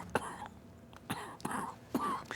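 Several short throaty coughs from a man at a Santa Parade, three or four separate bursts spaced about half a second apart, close and fairly soft, without speech.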